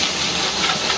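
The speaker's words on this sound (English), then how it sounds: "blow that dust off." Compressed air blasting dust off a chicken coop vent, a loud, continuous close-up hiss lasting about a second.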